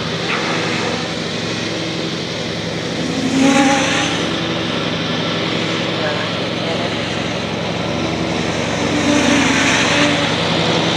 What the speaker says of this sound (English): Okay, I've got a ride on mower here,